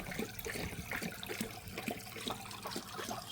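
Pond plant freshly set in water, soaking it up with a continuous soft bubbling and trickling, low and steady throughout with no voices.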